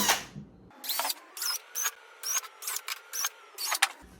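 Short bursts from a drill boring small holes in a stick for a homemade trash-can worm bin, about eight quick, evenly spaced pulses separated by brief silences, close and moderately loud.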